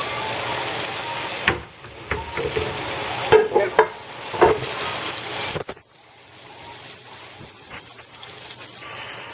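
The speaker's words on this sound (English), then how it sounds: "You want to get a good sear on it" Veal shanks searing in a hot pan for osso buco, a close steady sizzle broken by scraping, stirring clatters and turning of the meat, settling into a quieter, even frying hiss.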